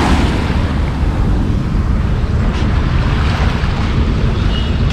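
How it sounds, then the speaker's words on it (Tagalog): Waves wash onto the Manila Bay shore in a steady, loud roar mixed with heavy wind buffeting, continuous and unbroken with no talk. "Tapos ganda nung hampas ng alon sa dalampasigan."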